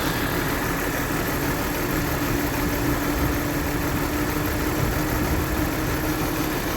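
A BMW E46 engine idles with a persistent misfire, a steady close drone with a slightly uneven, rough texture and no talking.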